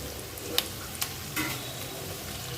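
Capsicum frying in hot oil over a high flame for chilli chicken, a steady close sizzle with a few light stirring clicks and scrapes, no talking.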